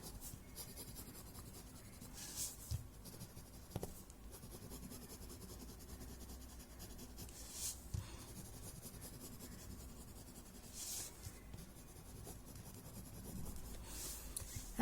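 Graphite pencil shading on paper, a soft, steady scratchy rasp of thick strokes that continues close and quiet throughout, with a few slightly louder scrapes along the way.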